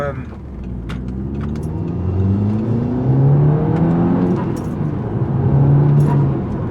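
A modified Audi S3 8P with a 2.0 TFSI engine accelerates past cyclists on a country road, its engine note swelling and climbing steadily as it pulls ahead, heard from inside the car.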